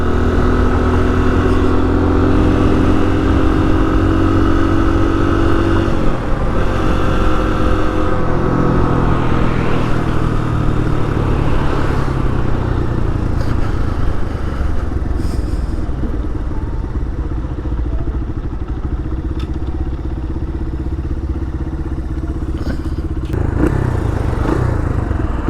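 A Honda XR100 motorcycle with a freshly rebuilt carburetor runs along a street, its small single-cylinder engine buzzing and shifting pitch steadily as it revs and settles through gears, loud and close throughout.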